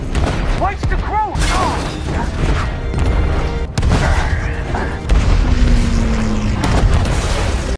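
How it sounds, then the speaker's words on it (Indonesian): Flak bursts hit an American bomber in a war film, heavy booms and rumbling blasts over a constant engine drone, with brief mechanical whines and clatter mixed in. "Ledakan bom flak di sana tepat mengenai salah satu pesawat Amerika"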